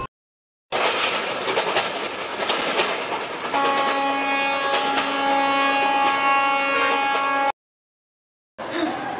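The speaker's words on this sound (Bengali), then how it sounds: "এটা তো একটি ট্রেন যাওয়ার শব্দ।" A train passing, a loud rumbling rush joined midway by a sustained tonal horn, cutting off abruptly into silence before a short burst of noise returns.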